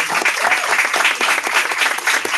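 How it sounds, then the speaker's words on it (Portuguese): Crowd applause fills the room at a psychology book launch, continuous and fairly loud with many hands clapping together. "Merece palmas."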